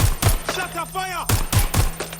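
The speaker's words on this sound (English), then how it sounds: "Shots fired!" Gunshots in the video game Watch Dogs Legion crack out in loud, punchy bursts, a pair at the start and three more near the end, with a shouted voice in the gap between.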